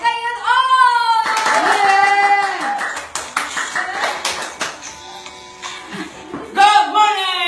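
A seminar audience at an AIMGLOBAL marketing plan event does rhythmic clapping mixed with loud cheering voices and music, with bursts of claps and taps rising and falling.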